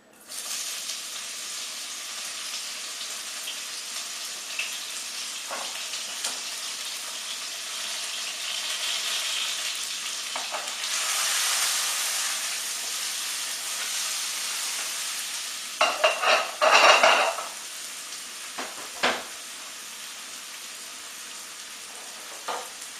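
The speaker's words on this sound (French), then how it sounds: "vous faites chauffer votre poêle, on met de l'huile d'olive et on balance notre oignon" Sliced onions frying in olive oil in a pan give a steady, close sizzle and hiss for over twenty seconds, with a few louder bursts of stirring and clatter late on.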